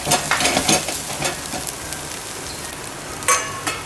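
Ginger paste sizzling in a hot frying pan while cooking a Bombay duck fish curry, a steady close crackle with a few louder bursts of spitting and stirring, with no voices.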